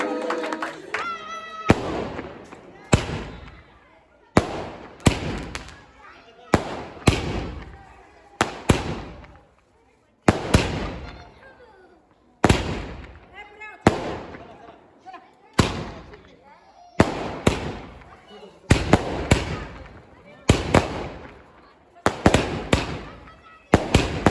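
Firecrackers burst one after another at a birthday celebration, about twenty loud sharp bangs at irregular intervals. Each bang trails off briefly before the next, and voices sound between them.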